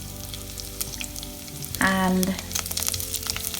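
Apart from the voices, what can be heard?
curry leaves sizzling in hot oil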